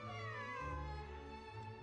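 A cat meows in the video game Genshin Impact, a single drawn-out, tonal cry, fairly faint and heard on its own.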